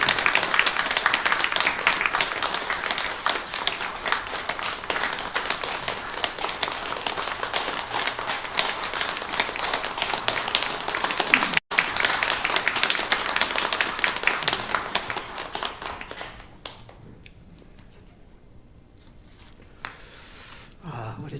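Large church congregation applauding to welcome a guest pastor at a thirtieth-anniversary worship service, steady loud clapping for about fifteen seconds before fading to near silence, with a sharp knock partway through.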